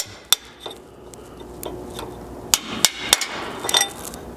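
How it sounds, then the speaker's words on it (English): A hammer strikes a long steel punch to drive a part out while installing a rear bumper on a second-generation Toyota Sequoia, giving about seven sharp metallic clinks at uneven intervals over a quiet workshop background. "So just a long punch here and a hammer is all I'm going to use to knock this one out."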